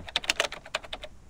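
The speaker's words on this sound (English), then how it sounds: "The stenographer quickly regains her composure and starts typing." A stenographer types quickly on a keyboard, about a dozen crisp keystrokes in a brief close burst before it falls quiet.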